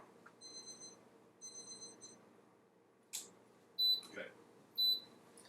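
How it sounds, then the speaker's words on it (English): Kitchen alarms go off during bread baking, with several bursts of high electronic beeping in short spaced groups, interrupted by a few brief clatters and faint background noise. "Lots of alarms going off."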